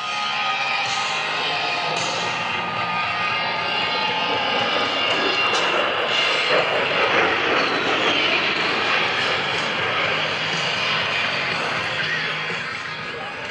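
An A-10 Thunderbolt II jet flies a demonstration at the 2011 Blue Angels Homecoming airshow, its engines giving a loud, steady roar that holds for the whole stretch and eases off slightly at the end.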